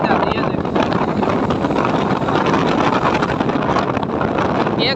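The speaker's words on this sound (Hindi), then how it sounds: "जैसे हम एक्सीलरेटर लेते हैं इंजन की आप साउंड सुने, काफ़ी यानी कि साउंड बढ़ जाती है।" A Hero Splendor Plus BS6 motorcycle engine revving as the accelerator is opened, a loud, steady buzzing drone close to the mic with broadband noise and no clear pauses.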